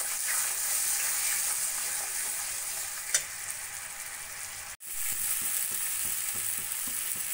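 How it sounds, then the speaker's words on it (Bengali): A masala paste of ginger, garlic and tomato, seasoned with cumin powder, fries in a pan with a constant close hiss and sizzle, broken by a few scraping stirs and a brief dip partway through. "দিয়ে মশলাটা ভালো করে কষিয়ে নেব"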